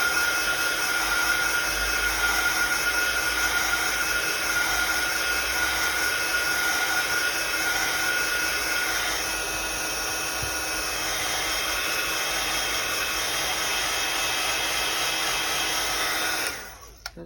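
A hair dryer blows steadily up close for about sixteen seconds, drying a fabric tag, with a constant whirring roar that cuts off abruptly at the end.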